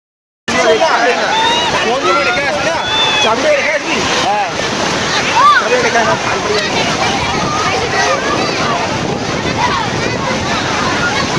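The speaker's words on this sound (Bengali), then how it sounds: "দেখুন পুরো পাড় অব্দি জল, আর শুধুমাত্র পাড় থেকে এইটুকু এগিয়েছে রেশমি, এখানে কত বড় বড় ঢেউ" Sea waves at high tide surge and break onto the beach at Digha, a loud, continuous roar mixed with wind buffeting the microphone and a babble of beachgoers' voices.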